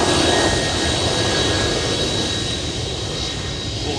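A jet airliner taxis fast at Memphis airport, its engines giving a loud, steady roar with a broadband rush that holds close and even throughout.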